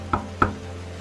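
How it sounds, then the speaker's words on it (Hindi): Two sharp knocks on a door, close and distinct, about a third of a second apart over a faint low hum. "तभी कोई जोर जोर से दरवाजा खटखटाता है।"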